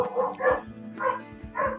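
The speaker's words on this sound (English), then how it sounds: "My dogs are barking." Dogs barking in a house, several short muffled woofs in quick succession, moderately close and without voices over them.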